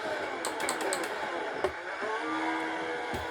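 F1 car in the F1 2020 video game rolling into the pits, a steady engine drone with several sharp bright transients and a brief thump, continuous and fairly loud throughout.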